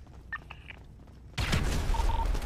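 Grenade blast in a GTA heist shootout: after a quiet moment with a faint voice, a sudden loud explosion erupts and rumbles on, with a beeping tone sounding over it.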